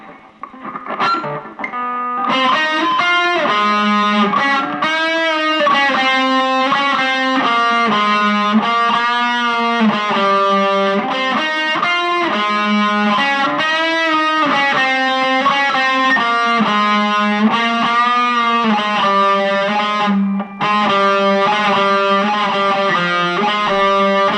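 Heavily distorted electric guitar, a three-pickup Stewart Stowaway travel model, plays a sustained, continuous riff with chordal texture, loud and steady throughout with no voices.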